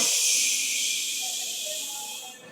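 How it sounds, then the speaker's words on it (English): Steady, breathy wind hisses past close by outside a window, a constant airy rush that eases slightly toward the end. "here from the window, you can listen the sound of the wind."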